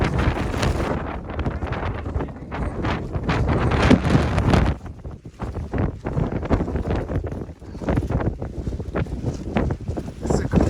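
Strong wind gusting and buffeting the microphone on a mountain trail along the Appalachian Trail, loud and continuous with roaring bursts that ease briefly midway, a voice audible under the gusts.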